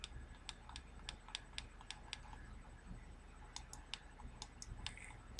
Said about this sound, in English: the button was a lot more clicky than the VMAX